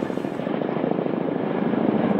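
A Kamov Black Shark military helicopter flies past, its steady, dense rotor and engine roar holding loud and continuous throughout with no voices.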